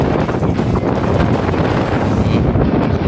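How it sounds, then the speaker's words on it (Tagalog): Strong wind roars continuously across the microphone, a loud, buffeting rush that never lets up, with faint splashing beneath. "Lakas ng hangin."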